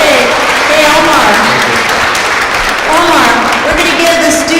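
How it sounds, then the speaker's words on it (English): Applause from the audience at a youth and justice forum, loud and sustained, with voices talking over the clapping. "Let's give a round of applause."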